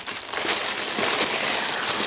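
A crinkly gift bag is handled at close range, giving a steady, dense rustle and crackle of thin material that lasts a couple of seconds with no talking.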